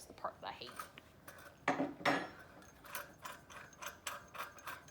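Metal clanks and ratcheting clicks as a tank wrench loosens the regulator on an H gas cylinder, with a few louder clanks in the middle and short bursts of faint clicking after.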